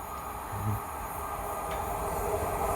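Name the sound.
train passing fast through station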